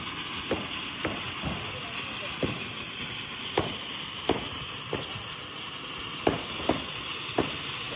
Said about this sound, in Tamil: வெடி வெடிக்க போறோம்.